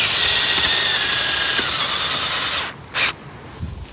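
Drill-powered bulb auger boring into garden soil, a loud steady whirring grind that winds down and stops, followed by a short burst and faint scraping.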